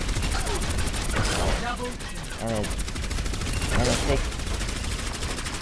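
Rapid-firing hero weapon from Overwatch, a tank's gun letting off dense bursts of quick repeated shots, loud and continuous across the whole stretch with game effects layered over it.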